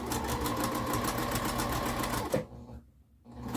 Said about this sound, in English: back stitch and go down to the other side of your cube